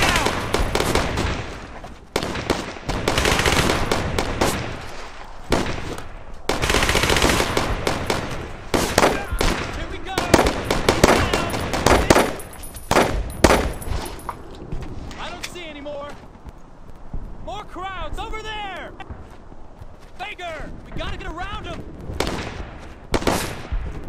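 Machine gun fire in the World War II shooter Road to Hill 30, long rattling bursts and repeated loud shots hammering close by amid battlefield noise, with soldiers shouting over the barrage.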